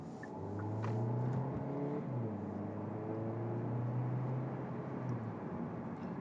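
A 2023 Hyundai Elantra Hybrid with a 6-speed dual clutch transmission accelerating under throttle, a steady low engine drone rising slightly in pitch, heard from inside the cabin at moderate level with no talking.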